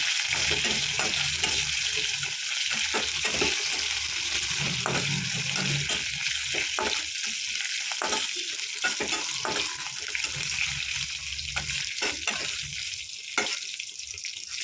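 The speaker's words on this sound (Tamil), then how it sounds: "ஒரு 4 வரமிளகா, 2 பச்சை மிளகா, கொஞ்சம் கருவேப்பிலை சேர்த்துக்கலாம். நல்லா எண்ணெயிலேயே வணக்கணும்." Dried red chillies, green chillies and curry leaves frying in hot oil, a loud continuous crackle and sizzle with intermittent stirring clatter, close up and without talk.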